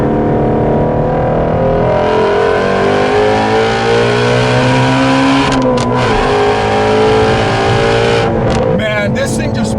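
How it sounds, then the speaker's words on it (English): A 2017 Shelby GT350 Mustang engine revs and pulls hard, its loud rising tone climbing steadily through the gears with a brief lift near the middle, while someone talks over it throughout. "this engine, it's so eager"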